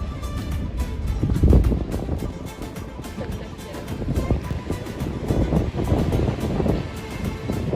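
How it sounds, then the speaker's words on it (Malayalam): Strong outdoor wind buffets the microphone in rolling gusts, a loud, continuous rush that swells and eases over several seconds. "നല്ല കാറ്റുണ്ടല്ലേ"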